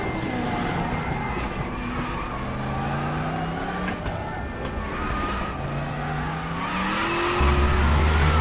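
Race car engines roar in a racing video game with Group C and Group 5 cars at Norisring, with a rising and falling engine note and tires squealing as they lock under braking into a turn. The sound is loud and continuous.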